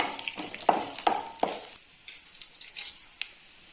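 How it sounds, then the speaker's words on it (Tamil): Garlic and spices frying in hot oil for hibiscus lemon rice make a loud, close sizzle, with a few sharp clinks of a spoon against the pan and a quieter crackle afterward. "நல்லா வறுத்துக்கலாங்க."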